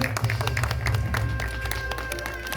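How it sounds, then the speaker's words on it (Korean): A crowd applauds after a demonstration of nuruk fermentation-starter dough made by the 500-year-old Geumjeong Sanseong foot-treading method. The clapping is steady and moderate over a low hum for under three seconds. "박수 한번 주세요"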